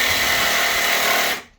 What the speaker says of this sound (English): This jigsaw's got a variable speed trigger, so we can always start it slow.